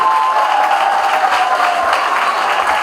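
An audience at a school end-of-year ceremony applauds the top students, with dense, steady clapping filling the hall throughout at full volume.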